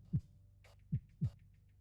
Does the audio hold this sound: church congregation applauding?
no